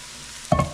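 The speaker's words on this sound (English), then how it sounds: "Now we're going to add the mushrooms to the same pan" Mushrooms hit a pan of hot bacon fat with a sudden loud sizzle partway through, after near silence, then a crackling hiss that fades over a fraction of a second.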